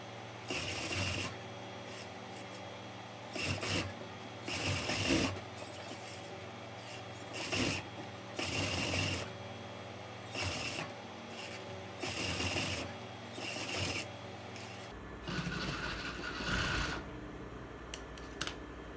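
A sewing machine stitches hook loops into a blouse in short, rapid bursts of mechanical whirring and needle clatter, separated by brief pauses, close by and with no talking.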